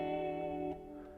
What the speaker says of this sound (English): You can hear the kind of ring out there with the delay and the reverb mixed.